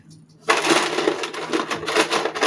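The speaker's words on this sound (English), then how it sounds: "I think I'll put an ice cube in there." An ice cube drops into a slightly warm drink and sets off a sudden, sustained fizzing crackle as it splits, close to the microphone with no talking.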